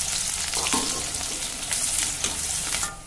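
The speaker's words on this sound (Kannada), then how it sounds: "ಇವು ಈರುಳ್ಳಿ ಕರ್ಕೋಬೇಕು ಅವನ್ನ ಡೀಪ್ ಫ್ರೈ ಮಾಡೋದು." Onions deep frying in oil in a kadai, a steady close sizzle with faint stirring clinks, no voices.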